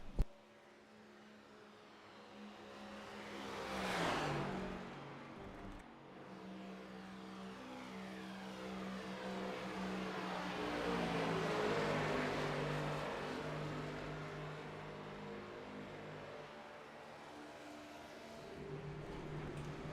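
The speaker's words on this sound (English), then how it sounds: "Just hear the engines come by. These cars sound amazing." Several race car engines roar past one after another at Daytona, rising and falling as they sweep by, with a steady crowd-like drone underneath.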